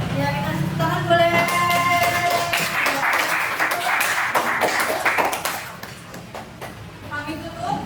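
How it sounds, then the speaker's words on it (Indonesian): A classroom of people claps briefly after a teaching session, scattered then fuller applause over a fading musical tone, dying down to a few last claps. "kita tepuk tangan boleh"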